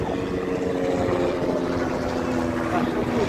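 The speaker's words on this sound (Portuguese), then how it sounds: "um helicóptero passando aqui" A steady low mechanical drone of a helicopter passing overhead, continuous and moderately distant, with crowd and beach ambience mixed in underneath at Ponta Verde beach in Maceió, Brazil.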